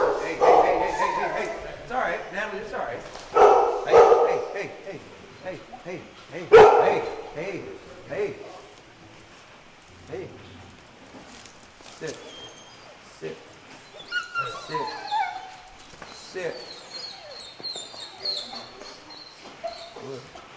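Dogs bark, yip and whimper in bursts, loud at first and then quieter and more scattered, with a person talking among them.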